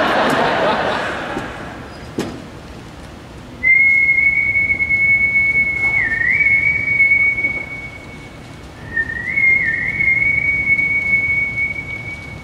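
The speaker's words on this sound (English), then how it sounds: "I'll give you a whistle." A person at a Guardians of the Galaxy convention panel whistles two long, steady, high notes, each with a small dip in pitch, loud and close against a quiet room.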